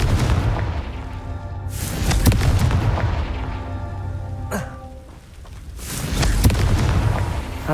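Confringo spell blasts in Hogwarts Legacy, loud booming fiery explosions at roughly 2 and 6 seconds plus a sharp crack near 4.5 seconds, over a continuous game ambience with rumbling low tones.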